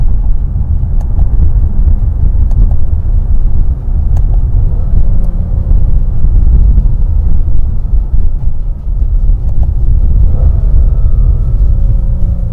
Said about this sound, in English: And now I will show you downshifting.